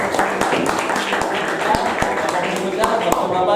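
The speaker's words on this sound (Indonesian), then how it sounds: "Tepuk tangan kelompok 1 tuh." Students in a classroom clap for a group that has just presented, a steady patter of many hands with several sharper individual claps standing out, while voices murmur underneath.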